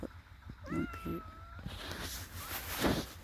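Stray cats meow outdoors, with one clear drawn-out meow near the start and fainter yowls following, heard close against a rough background rumble and without speech.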